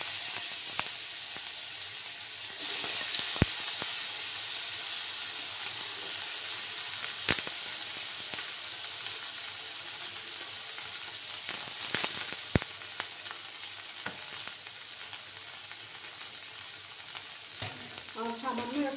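Paneer pieces fry in a pan with turmeric, making a long, even sizzle and hiss, punctuated by occasional sharp clacks and scrapes of a utensil against the pan.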